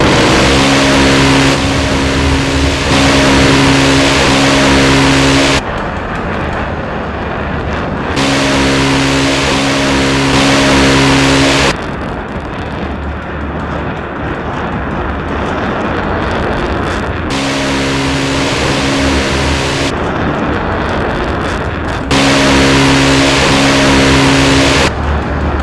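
A Phalanx CIWS close-in weapon system fires in a simulation. Loud, sustained buzzing roars come in several long bursts, each lasting a few seconds, with short lulls between them.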